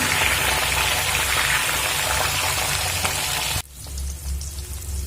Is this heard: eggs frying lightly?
yes